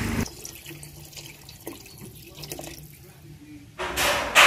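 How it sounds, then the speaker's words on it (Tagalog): Water is poured into a pot for sopas soup, beginning with a brief burst, then quiet dripping and trickling. A heavier splashing pour rises near the end, with faint background sounds in between. "Yan, lagyan natin ng tubig."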